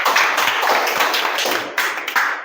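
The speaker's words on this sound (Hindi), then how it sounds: "ओके, इनके लिए तालियां हो जाए" Classmates clap for a student, loud, close, brisk applause from a small group with uneven individual claps standing out, continuing throughout.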